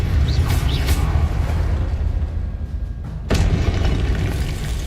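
Spellcasting in the Hogwarts Legacy video game: an Incendio fire spell blasts out as a loud, broad booming burst, with a second sharp whooshing crack near the middle over continuous rumbling combat noise.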